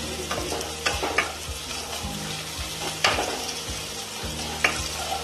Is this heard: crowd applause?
no